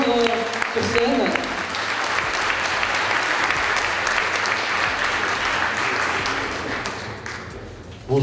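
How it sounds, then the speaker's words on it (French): An audience at a 2008 business event claps loudly and steadily for several seconds, a dense sustained applause that fades slightly toward the end, where a voice begins. "On peut l'applaudir bien fort"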